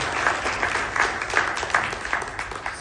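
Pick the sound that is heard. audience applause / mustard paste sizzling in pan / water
audience applause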